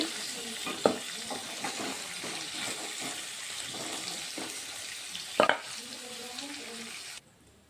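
Chopped onions fry in hot oil for palak paneer, a close, steady sizzle with frequent stirring scrapes and a couple of louder clatters, no talking over it.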